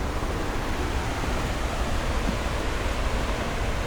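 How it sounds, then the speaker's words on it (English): A waterfall at the Four Waterfalls in the Brecon Beacons roars nearby, a loud dense unbroken rush with no voices. "This is the fourth waterfall and probably hardest one to get to."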